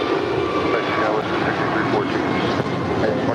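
Airliner taking off from a runway at LAX, a loud steady broadband engine roar held for a few seconds with no break, a faint radio voice mixed underneath.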